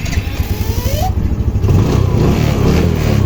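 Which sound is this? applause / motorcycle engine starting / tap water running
motorcycle engine starting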